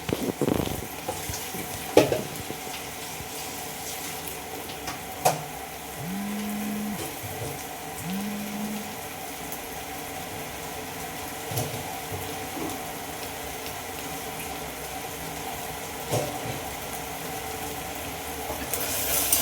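Salted tomatoes frying in a pan for tomato bath give a steady, close sizzle with a few sharp scrapes and clicks from stirring, under a low humming drone, with no talking.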